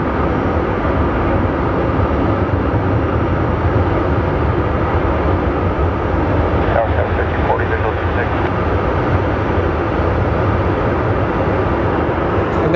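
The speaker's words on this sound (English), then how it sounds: "that is Michael Friedman's plane coming from Dallas." An airliner arriving from Dallas at Phoenix Sky Harbor airport produces a continuous loud, low engine roar and rumble that stays steady throughout, heard from nearby on the ground with faint chatter mixed in.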